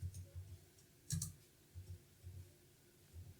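Computer mouse clicking while using the Type tool in a graphic design program: a few soft, close clicks spaced over a quiet room hum, with one sharper double click standing out.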